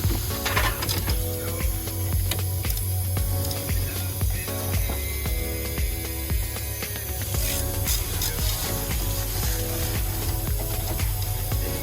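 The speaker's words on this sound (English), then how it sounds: "1/2-inch wrench." A 1/2-inch ratchet wrench works the corroded brake bolts on a Mini Countryman, giving steady rapid metallic clicking and ratcheting over a busy garage background with no talk.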